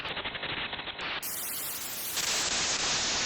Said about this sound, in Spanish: eso es lo que pasa con ruido blanco